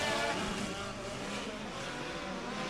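Midget race cars roar off the start of a USAC Mid-America Midget Week feature at Sweet Springs, a loud, dense pack of engines blending into one continuous, sustained drone with no gaps.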